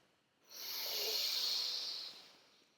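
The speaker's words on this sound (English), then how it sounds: "Deep breath in. Exhale." A single deep breath drawn in and released during a Kundalini yoga session, a soft airy hiss swelling for about a second and a half and then fading, close and alone.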